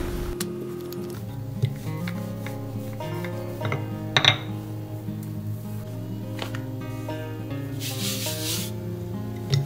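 A rolling pin pressing lasagna pasta dough for mushroom lasagna into thin sheets, making soft repeated rubbing and scraping strokes with a few light knocks over a steady low kitchen hum.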